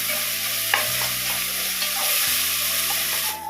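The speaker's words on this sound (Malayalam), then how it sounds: "പിന്നെ തക്കാളി ചേർത്ത് നന്നായിട്ടൊന്ന് വഴറ്റിയെടുക്കാം" Onions and tomatoes for kothu porotta sautéing in a pan, a loud close sizzle with brisk stirring scrapes and a few utensil clinks over a low steady hum, with no talking.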